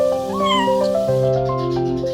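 A house cat meows close and loud, a long drawn-out wavering call sliding up and down, with no talking.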